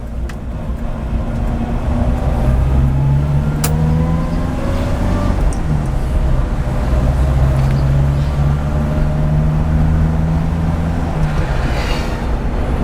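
A 1-litre Datsun Sunny B10 engine drones steadily while driving on an open road, loud and close from inside the car, with engine pitch rising and shifting across gears and no talking.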